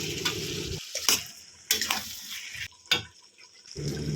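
Bottle gourd cooked with a bhetki fish head and a sprinkling of flour is stirred in a pan, giving several bursts of scraping and clatter between quieter sizzling gaps, close and without talk.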